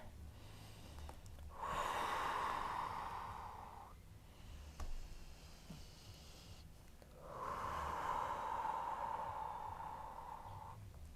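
Slow, deep breaths in a yoga pose during a beginners' warrior flow: two long airy exhales, each a few seconds, close and soft, separated by a quiet pause.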